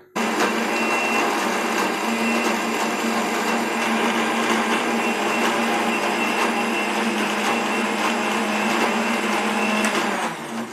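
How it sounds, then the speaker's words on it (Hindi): A kitchen grinder whirs steadily and loudly as it blends chutney into a smooth paste, a continuous close motor drone lasting about ten seconds before winding down, with no talking. "चटनी ग्राइंड कर लेना है ताकि अच्छे से नरम चटनी बन जाए"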